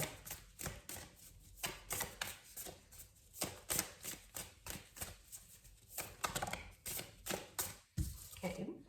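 Tarot cards are pulled and shuffled from a deck in quick, rhythmic flutters and soft slaps that repeat steadily and sit close to the listener. A voice talks intermittently over the card handling.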